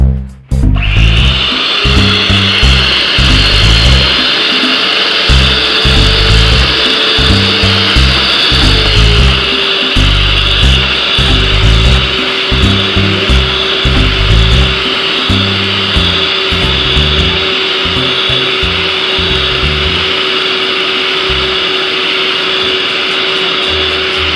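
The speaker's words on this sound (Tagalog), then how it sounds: "We have to beat until foamy. So using this mixer." An electric hand mixer beats egg whites with cream of tartar in a large bowl for meringue, a steady loud motor whine with whirring and rubbing running continuously without talk.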